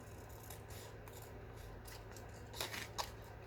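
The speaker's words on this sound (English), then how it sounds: "What I'll do is just cut a little bit off" Scissors snipping paper while trimming a page for a vintage-style journal, a few soft close cuts over a quiet steady room hum.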